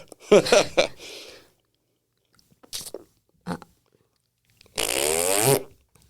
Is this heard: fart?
yes